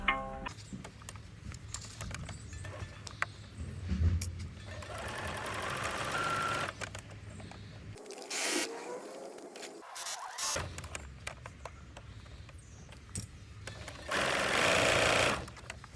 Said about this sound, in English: and so sew down here first, switch it over, and then sew down this inside leg